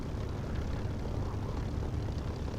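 A simulated aircraft engine drones steadily in the DCS flight simulator game, a dense, continuous rumbling hum that stays loud and unchanged throughout, with no one talking.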